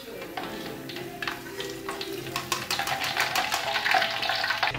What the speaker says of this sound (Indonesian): bunyi gorengan sudah agak tenang, dan nggak berisik seperti di awal menggoreng